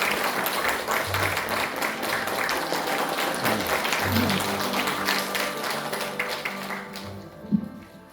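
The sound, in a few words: applause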